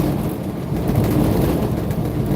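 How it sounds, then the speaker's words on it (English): On a stormy day, a low rumbling roar of thunder and rain runs steadily throughout, fairly loud and unbroken, with no speech. "Raining and everything else."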